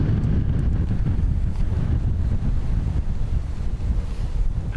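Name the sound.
strong wind blowing into the microphone at Dublin Airport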